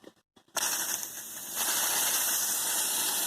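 Steam bursts from the opened drain cocks of a small portable steam engine after a few quiet mechanical clicks, becoming a loud continuous hiss that swells stronger partway through and holds steady, close by.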